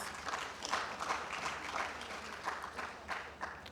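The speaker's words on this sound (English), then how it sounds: "We can give him a more resounding applause" An audience at a distinguished engineering lecture claps in a lively, slightly uneven burst, with individual hand claps standing out from the crowd as the applause carries on at a steady level.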